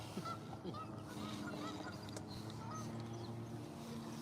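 A couple of geese honking as they fly in over a fishing spot, repeated nasal calls at moderate distance over a steady low background hum.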